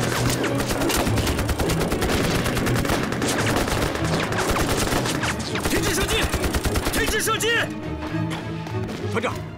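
Gunfire in a Chinese war drama battle scene, a dense continuous fusillade of rapid shots and bursts with shouting voices mixed in, loud and sustained before thinning out near the end.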